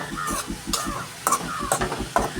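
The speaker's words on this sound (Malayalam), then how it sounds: "ഇതിലേക്ക് നമുക്ക് അരപ്പ് ചേർത്ത് കൊടുക്കാം ഇതെല്ലാം കൂടി നമുക്കൊന്ന് മിക്സ് ചെയ്യാം" Bitter gourd and ground coconut paste are stirred in a pan for a thoran, giving a soft sizzle under a steady, rhythmic scraping of a utensil, close up with no speech.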